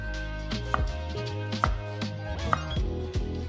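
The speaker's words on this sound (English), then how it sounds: "Now slice the Asian eggplant." A knife slices through an Asian eggplant on a cutting board, making three or four distinct, evenly spaced chops, close up against a low background hum and no talking.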